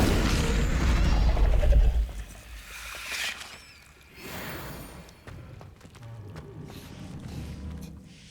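A fire spell cast in Hogwarts Legacy erupts as a loud low boom with a crackling burst, then fades into softer game ambience and scattered effects, with no talking.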